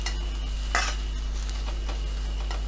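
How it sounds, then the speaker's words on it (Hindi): Potato paratha filling with onion fries in a pan, a steady close sizzle with a few scraping stirs of a spoon, no voices. "प्याज के साथ हम इसे भून रहे हैं।"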